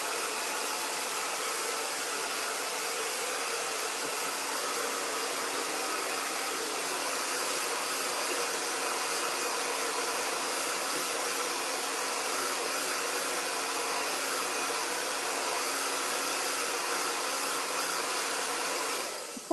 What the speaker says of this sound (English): I'm going to use the hairdryer just one more time.